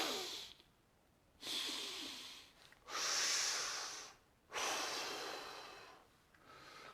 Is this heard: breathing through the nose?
yes